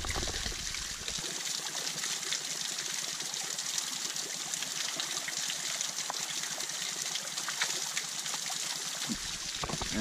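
Water from Casuarina Falls in the Kimberley, used as a natural shower late in the dry season, pours and splashes in a steady, continuous stream close by, with no talking.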